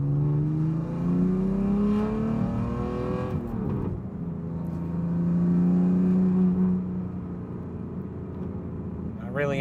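BMW F80 M3 running a Bootmod3 tune, its engine droning at steady revs and rising in pitch as it pulls, then settling to a lower hum, with speech over the drone and only faint crackle or burble near the end.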